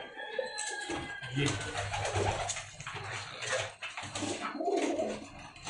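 Pakistani pigeons coo close by in rolling, repeated throaty calls, with bursts of other activity and faint voices mixed in.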